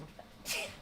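One short, soft sneeze from a person in a fishing livestream, brief and somewhat faint over a quiet background.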